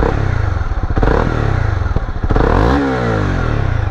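A 2023 Honda CB250R single-cylinder motorcycle engine idles and blips up close. It has a loud, steady, pulsing thump, and a short rev rises and falls near the end.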